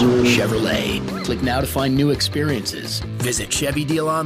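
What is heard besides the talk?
No everyday noises stand out.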